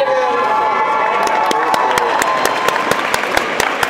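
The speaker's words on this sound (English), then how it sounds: "So let's give her a round of applause." A crowd applauds and cheers for a female singer after her performance at a Pottawatomie County event, sustained clapping with sharp individual claps rising toward the end, loud and close, with some voices in the mix.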